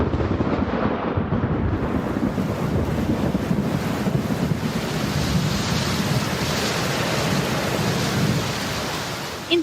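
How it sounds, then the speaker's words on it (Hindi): Thunderstorm with heavy rain, a dense steady roar of downpour and wind, loud and continuous throughout with a low rumbling undertone and no voices. "देखते ही देखते गरज चमक के साथ तूफानी बारिश शुरू हो जाती है"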